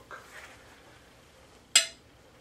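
A frying pan is knocked once, a single sharp metallic clank that rings briefly, standing out against a quiet room after some faint background sounds.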